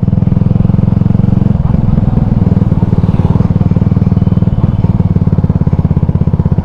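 A CF Moto 300SR motorcycle engine idles steadily and smoothly at close range, a dense even rumble with a light clatter running throughout, loud and continuous with no voices.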